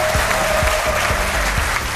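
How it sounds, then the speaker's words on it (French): A television studio audience applauds a guest arriving on set, a loud, dense, steady wash of clapping hands that fills the whole moment without pause. "Applaudissements pour notre invitée."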